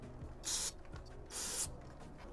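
Two short hissing bursts of carburetor cleaner sprayed from an aerosol can onto the driver-side door latch of a Toyota 4Runner, each about a quarter second, close and fairly loud, with faint mechanical clicks between them.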